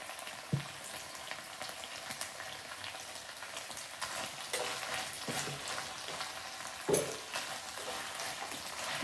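Green chillies and black pepper frying in a pan for chilli paneer, a faint, steady crackling sizzle with a few sharp clatters and stirring knocks, close by and alone without speech.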